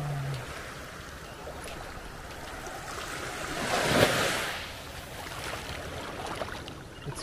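Ocean surf rolls in steadily at Wandoor Beach, a broad wash of breaking waves that swells to a louder crash midway, with some wind buffeting the microphone and no talking.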